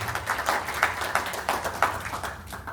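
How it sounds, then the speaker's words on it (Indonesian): Steady clapping from a group, a dense patter of hand claps with a few sharper accents, moderately loud and close, without talk. "Tepuk tangan lagi dong Pak."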